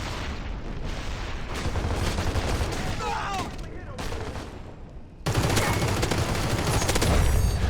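Gunfire in the video game CrossfireX: bursts of shots and booming blasts crackle densely over several seconds, then a louder, harsher barrage erupts, with voices briefly mixed in.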